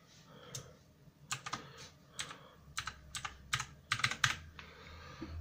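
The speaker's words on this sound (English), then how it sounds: "As you can hear, the keys are nice and solid." Solid keys on a computer keyboard being typed on with an irregular patter of clicks and clacks, close up over a low background hum.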